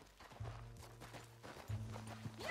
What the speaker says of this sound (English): Back on your horse.